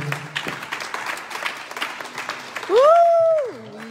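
A church congregation claps in scattered, moderate applause, with a voice rising in a drawn-out tone near the end.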